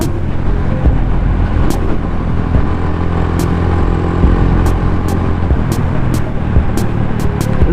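Continuous road noise while riding in traffic, a broad engine and tire roar from cars and motorcycles nearby, steady and loud with occasional sharp clicks and no clear talk.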